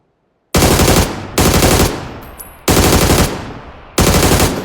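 Gunfire in the video game PUBG, four loud, close bursts of rapid automatic shots, each about a second long and separated by short gaps, with no voices.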